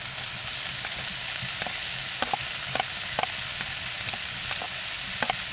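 Onions and potatoes fry in a pan inside a wood-heated winter camping tent, a constant close sizzle broken by scattered clicks and scrapes of stirring.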